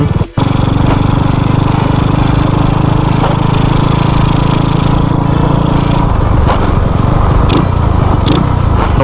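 A modified pink Honda Dream motorcycle engine runs steadily, loud and close with a dense buzzing drone; its tone dips and roughens slightly about two-thirds through.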